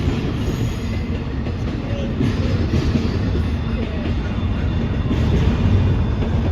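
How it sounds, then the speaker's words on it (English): A long freight train rolls past close by, its heavy wheels rumbling steadily with a loud, continuous low roar and faint metallic rattle throughout. "This is a freight train."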